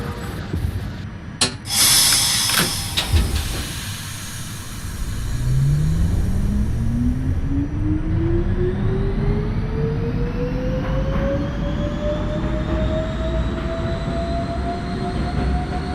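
An NYC Subway R68 B train in the OpenBVE simulator pulls away, its motor whine climbing steadily in pitch over a loud rumble after a few sharp clunks at the start, with no voices.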